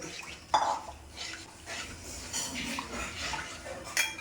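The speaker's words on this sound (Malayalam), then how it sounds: "1/2 കപ്പ് പാലൂടെ ഒഴിക്കുകയാണ്" Milk poured into a pot of Kerala aval payasam, a rice-flake and milk pudding, giving a soft liquid splash and trickle with light clinks of a utensil against the vessel, close and moderately quiet, no talk.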